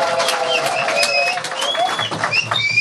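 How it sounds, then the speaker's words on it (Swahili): Applause from a crowd at a Christmas celebration with children in Mbeya Rural rises as a steady, dense wash of clapping, with a few high whistles or cries threaded through it. "Hebu naomba tujipigie makofi."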